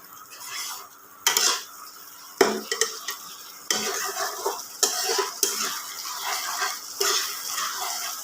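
Spice paste for a Bengali koi fish curry stirred and fried in a pan, with repeated scraping strokes of a utensil against metal over a steady sizzle, close and fairly loud, with no talking.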